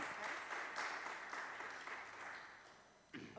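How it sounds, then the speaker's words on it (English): An audience at a Web3 marketing conference panel gives sustained applause, a dense wash of clapping that slowly fades over a few seconds before a brief bump of noise at the end, heard at a distance and fairly faint. "Let's give them a big round of applause."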